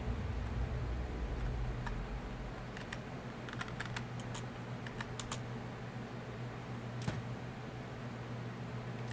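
Rapid clicking from a computer keyboard or mouse during gameplay, crisp irregular taps coming in bursts over a constant fan-like hum.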